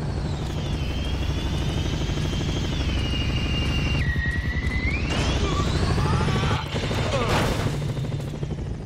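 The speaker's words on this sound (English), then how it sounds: "Fully manned, the agency squad chopper is a deadly flying fortress." Agency squad helicopter from the video game Crackdown 2, a heavily armed chopper carrying up to four agents, its loud steady rotor and engine drone running throughout, with pitch shifts as it manoeuvres and bursts of game gunfire and effects late on.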